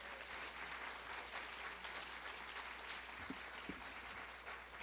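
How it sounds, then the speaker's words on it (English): Audience applause at a children's literature honor lecture, a steady, even wash of many hands clapping, moderately distant and soft, with no voices over it. "A round of applause, please,"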